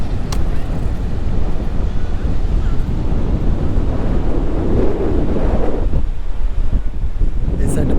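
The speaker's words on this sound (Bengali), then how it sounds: "শুনতে পাচ্ছেন এত সুন্দর বাতাস হচ্ছে এখানে সমুদ্রের ঢেউ" Strong wind buffets the microphone over a steady roar of breaking sea waves on a beach, loud and continuous throughout.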